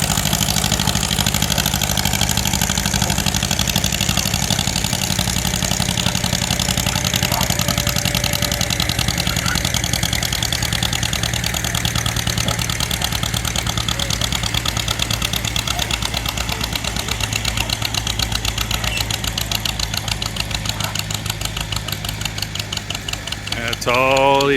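Vintage engine on old machinery at a restored machinery show near a lake, chugging loudly and close with a rapid knocking rhythm that labors and bogs down toward the end; voices talk over it.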